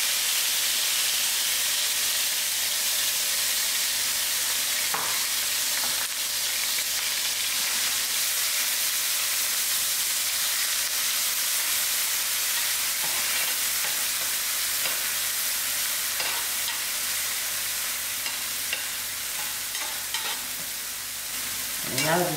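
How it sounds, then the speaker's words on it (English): Onions dropped into a quarter cup of hot oil in an already heated pot fry with a loud, dense, unbroken sizzle and hiss, with faint scraping stir sounds now and then. No speech. "add in my 1/4 cup of oil to the same oil, and I left the stove on, so the pot is already hot. Put in my onions."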